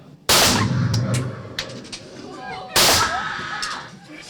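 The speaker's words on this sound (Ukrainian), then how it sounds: "три постріли було зроблено" Two loud, sharp gunshots from police firing at a target during a training demonstration ring out about two and a half seconds apart, each followed by a brief echo, with faint background sounds between.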